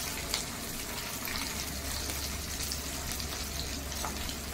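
Mirchi bajji, cut chillies in batter, deep frying in hot oil, a dense continuous bubbling sizzle, close and steady from start to finish.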